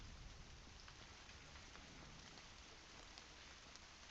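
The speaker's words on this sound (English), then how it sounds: "Oh, it's raining." Steady rainfall in the video game Herdling, a faint, even wash of falling rain that holds constant throughout with no other sounds.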